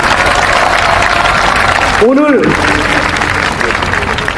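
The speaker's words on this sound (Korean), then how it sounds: "여러분, 힘찬 박수로 격려해 주십시오." A rally crowd marking the June Democratic Uprising anniversary applauds in a dense, continuous wash of clapping, with an amplified voice speaking over it.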